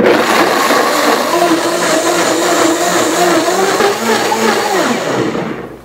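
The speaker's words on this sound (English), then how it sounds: "So I'm gonna turn on the blender and I'll blend it up." A blender whirs loudly and continuously as it blends cashews, its motor pitch wavering slightly, then winding down at the end.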